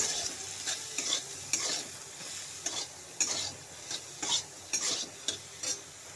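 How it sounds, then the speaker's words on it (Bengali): Soybean chunks for a curry, seasoned with salt and turmeric, are stirred in a frying pan, with repeated scraping strokes in an uneven rhythm over a soft oil sizzle, close up and alone. "তারপরে দিয়ে দেবো সামান্য হলুদ গুঁড়ো, একটু নাড়াচাড়া করে নেব।"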